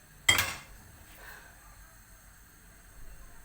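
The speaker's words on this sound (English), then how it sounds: "So this is the pan that I'll be using, the pot that I'll be using for the frying." A metal frying pot is handled in a home kitchen: one sharp clanking knock near the start, then a fainter clink, with quiet room tone afterward.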